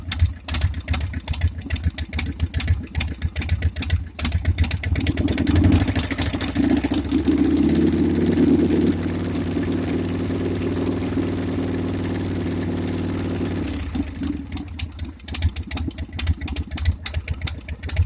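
A salvage Harley Sportster motorcycle with a leaking rear exhaust pipe and an ignition needing timing work cranks with uneven chugging, then runs at a loud, rough, throbbing idle before lapsing back into irregular sputtering, with no speech.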